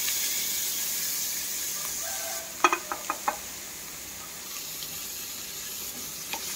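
Chopped beetroot sautéing in a pan with chillies for beetroot rice, a faint steady sizzle broken by a quick run of four sharp spoon taps against the pan, then a soft background hiss; no talking.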